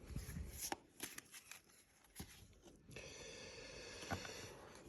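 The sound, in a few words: drawing oracle cards from a deck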